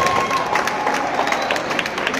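Steady applause from an audience at a rock band show in a parish setting, with dense continuous clapping and some crowd noise throughout.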